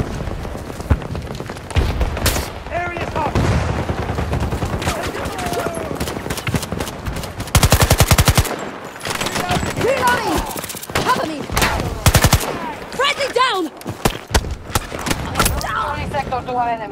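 Rapid bursts of automatic gunfire and booming explosions from a Battlefield war video game, loud and continuous, with shouting voices mixed into the battle throughout.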